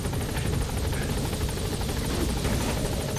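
A helicopter in the stealth video game Metal Gear Solid V thrums steadily, its rotor chop loud and constant through the whole stretch without pauses.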